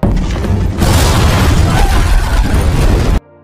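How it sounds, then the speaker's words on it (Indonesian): A car explosion roars and rumbles loudly for about three seconds, a heavy blast with crackling debris before cutting off abruptly. "Setelah itu Walker meledakkan mobil yang berada di dekat Ryan, sampai akhirnya Ryan pun sekarat akibat led"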